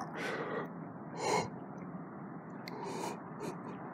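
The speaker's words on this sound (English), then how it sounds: "So every time I take a deep breath," Someone with pain below the spleen takes careful, guarded breaths, a few short, breathy gasps close to the microphone with quiet pauses between them.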